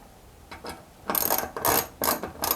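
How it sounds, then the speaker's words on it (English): A wrench tightening a brass fitting on a gas regulator, producing quick ratcheting clicks in about four short bursts, close and fairly loud, with no talking. "Just tighten them down snug, don't wrench on them super tight."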